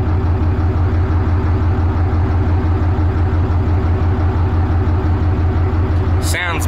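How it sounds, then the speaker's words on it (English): A 2013 Dodge Ram 3500 dually Mega Cab with a Cummins diesel idles close by, its exhaust giving a steady, loud, throbbing rumble that holds even throughout, with a brief higher rustle near the end. "Give you a sound of the exhaust."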